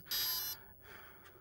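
Electronic speed control in an RC car, an Element Enduro12 with a Rhino ESC, gives a loud, sharp high beep lasting about half a second, followed by a fainter tone.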